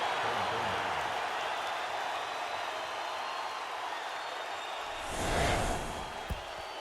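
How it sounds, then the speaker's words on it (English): Stadium crowd at a CFL football game, Hamilton at Edmonton, a steady distant roar of noise that swells into a louder cheer near the end before settling back. "The crowd is really letting them hear it."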